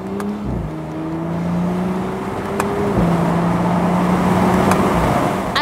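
A 2019 Audi S5 Cabriolet accelerates hard, its engine note climbing steadily through the gears with a short dip at each upshift, loud and close throughout.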